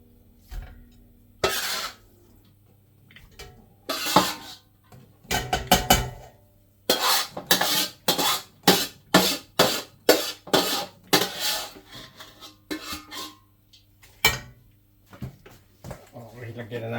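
Food tipped into a cooking pot in a home kitchen, pork intestines for rice porridge, with a series of sharp metallic clatters and knocks from pots and utensils, close by, and a person talking between them.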